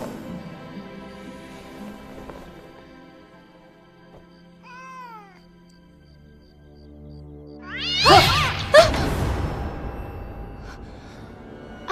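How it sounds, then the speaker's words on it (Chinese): A wild cat in a period TV drama scene gives a short, thin meow, then breaks into loud, harsh yowling and snarling cries near the end, with faint background music underneath. "这怎么会有一只咬人的野猫啊？"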